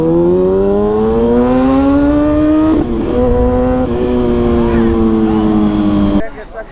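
A Kawasaki motorcycle engine revs loudly and close by, holding a rising, sustained drone with small dips in pitch. The engine noise cuts off abruptly at the end.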